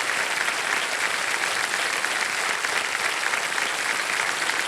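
Studio audience on the KBC quiz show gives sustained, dense applause, loud and even throughout with no pauses or talking over it.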